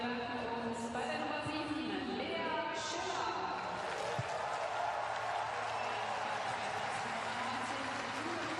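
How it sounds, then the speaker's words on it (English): A stadium crowd at a women's World Cup qualifier between Germany and Serbia applauds, a faint, continuous wash of distant clapping and crowd noise beneath a commentator's voice. "Warm round of applause."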